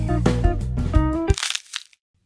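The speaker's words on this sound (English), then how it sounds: "I'm really enjoying eating this apple." Several crisp crunchy bites into an apple in quick succession, fairly loud and close, with a cracking snap at the end before a short silence.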